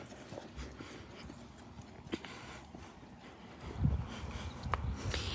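A horse walking out toward a trail course, hooves clip-clopping on the ground in an irregular rhythm, moderately close, with a steady outdoor background and a few heavier thuds near the end, no talk.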